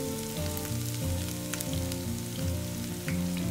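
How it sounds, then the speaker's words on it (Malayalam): Mustard seeds splutter and chopped shallots fry in hot oil for a Kerala mushroom thoran, a steady close sizzle with scattered pops and crackles throughout. "കടുക് പൊട്ടി തുടങ്ങുമ്പോൾ അതിലേക്ക് ചെറിയ ഉള്ളി ചെറുതായിട്ട് മുറിച്ച് വെച്ചതും കൂടെ ചേർത്ത് കൊടുത്തിട്ടുണ്ട്."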